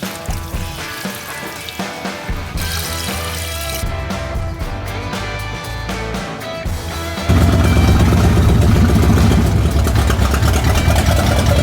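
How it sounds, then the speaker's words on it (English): Water turned on from an old tap in a shop beside a 1972 Ford, starting uneven and sputtering, then surging into a loud, steady rush of running water. "this is how you turn the water on"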